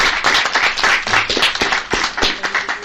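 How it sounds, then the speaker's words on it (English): A board meeting crowd gives a round of applause, dense steady clapping from many hands filling the room for a few seconds, with faint talk underneath. "let's just give Dottie a round of applause"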